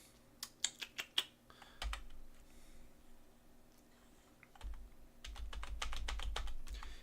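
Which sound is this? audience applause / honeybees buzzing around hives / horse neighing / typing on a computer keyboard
typing on a computer keyboard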